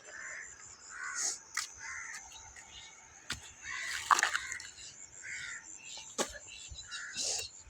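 A crow perched nearby gives a series of harsh caws in short bursts at irregular intervals, clear and moderately loud against a quiet outdoor background with a few soft clicks and rustles.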